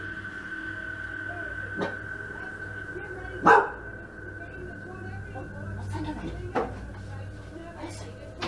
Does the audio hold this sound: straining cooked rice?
no